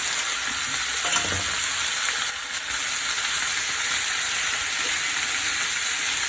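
Steamed carrots, broccoli and yellow peppers dropped into a hot pan for a stir fry, giving a loud continuous sizzle and hiss with a few clattering stirs, no voices.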